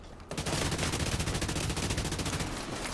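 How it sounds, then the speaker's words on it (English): Kingbreaker assault rifle fires in The Division 2, a loud, sustained rapid-fire burst of close gunshots lasting almost three seconds with no talk over it. "I missed all those shots."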